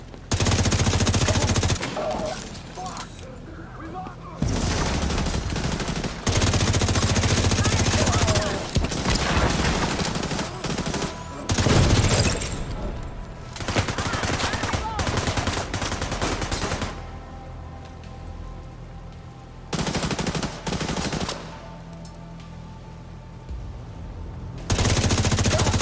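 Sustained video game gunfire in a combat shooter, with long loud bursts of automatic fire and volleys separated by brief lulls, heavy and close throughout the stretch.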